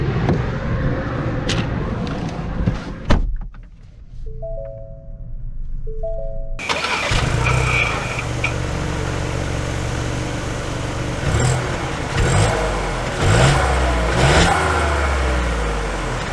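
A lifted 2022 Ford Bronco Sport Big Bend on larger tires: engine noise, a short quiet stretch with chime tones, then the engine running steadily as it sets off, close and continuous.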